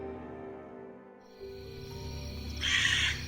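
A harsh crow-like caw rings out once, loud and nearby, following a quiet stretch with a faint steady hum.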